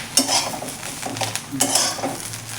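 Green chillies, garlic and cumin are stirred while roasting in a pan for thecha, with a spoon scraping and clinking against metal in quick strokes over a soft sizzle, close by.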